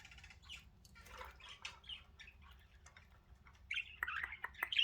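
Pet budgies chirp and squawk indoors, soft scattered twitters at first building to sharper, louder chattering calls near the end over a faint low hum.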